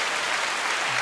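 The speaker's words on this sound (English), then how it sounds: "I get a moment of applause" A brief burst of applause, loud and dense clapping heard close for about a second in a music studio setting.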